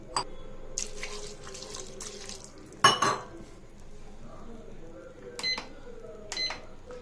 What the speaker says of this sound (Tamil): இப்போ இதுக்கு தேவையான அளவு தண்ணி ஆட் பண்ணிக்கலாம்.